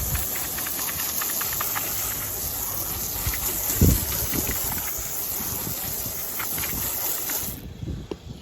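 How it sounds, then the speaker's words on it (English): A garden hose sprays water to rinse an RV roof, a continuous close hiss of running water with a few scattered knocks, cutting off near the end. "Let me reach back here and I'll get my hose. We're just kind of rinse it away."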